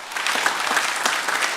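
A church congregation at a Sunday service claps in welcome for newcomers, dense and fairly loud applause that holds steady without talk.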